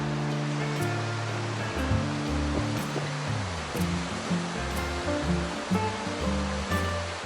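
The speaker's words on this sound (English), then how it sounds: "That is the South China Sea." Surf from the South China Sea breaks on the beach at Kuala Belait, Brunei, a steady near wash of waves rising and falling in gentle surges, heard alone.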